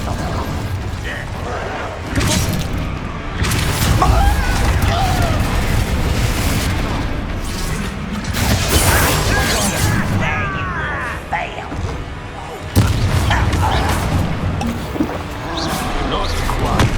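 Spell effects from Hogwarts Legacy: Incendio and other casts go off during a trial battle, giving loud repeated whooshes and booming impacts over a busy bed of game sound and music, with a voice talking.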